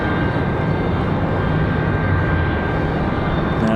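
An Endeavor CRJ regional jet departs for Miami, its engines a steady broadband roar with a thin whine riding on top, loud and constant for the whole stretch.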